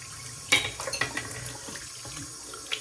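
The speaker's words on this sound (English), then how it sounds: "so I'm gonna go ahead and just make sure all the soap is rinsed off." Water running from a tap into a sink while soap is rinsed off a face, with a few splashy bursts and trickles near the start and then a softer steady flow, heard close with no talking.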